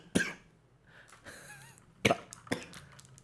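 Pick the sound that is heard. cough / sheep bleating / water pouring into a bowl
cough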